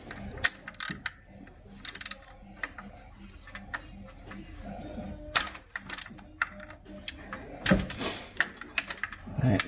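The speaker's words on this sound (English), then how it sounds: "And then you just use a ratchet." A ratchet with a socket on stacked 3-inch extensions loosens a spark plug in a Subaru 2.5L engine, giving repeated close mechanical clicking in bursts with short pauses.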